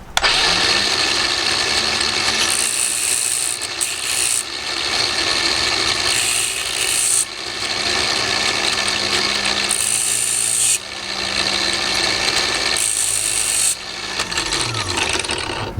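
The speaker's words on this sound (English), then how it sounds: "Okay, here's my angle grinder." An angle grinder sharpens a drill bit, whining steadily at high speed with bursts of harsh grinding as the bit is pressed to the wheel, continuous and loud, then spinning down at the end.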